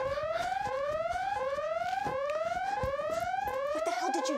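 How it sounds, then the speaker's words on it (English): An alarm on a safe inside a house wails in loud, repeating rising electronic sweeps, each lasting under a second, cycling steadily and close with nothing else over it. "The safe had an alarm on it."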